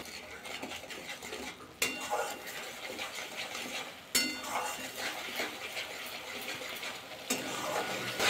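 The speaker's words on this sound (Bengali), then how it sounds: "ভালো করে কষিয়ে নেব মশলাটা" A spoon stirs and scrapes spice masala with sugar in a pan while it sautés, a busy clinking and scraping texture over a soft sizzle, close up, with a few sharp knocks against the pan.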